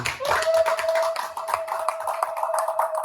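A church congregation claps steadily and rapidly in rhythm, the dense hand claps close and loud, with a sustained vocal tone and voices carrying over the clapping.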